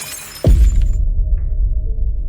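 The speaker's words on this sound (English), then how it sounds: "the pitcher was suspended in mid-air, slowly pouring water into the carpet before it too crashed in the floor," A pitcher crashes to the floor with a sharp, loud shatter and a sliding downward crunch, followed by a low rumbling tail that lingers close and heavy.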